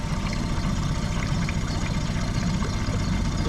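Outboard engine on a canal boat idling just above tick over, a steady low rumble with a throbbing mid-range hum that holds constant and close throughout, no speech.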